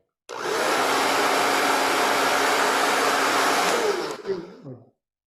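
An iTeraCare handheld device's fan on its lowest setting, a loud steady whooshing blow starting abruptly and running for about four seconds, then cutting off with a brief spin-down flutter.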